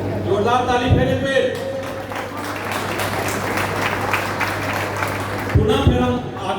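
An audience claps in a steady, sustained wash for several seconds, with a voice speaking over it at the start and again at the end.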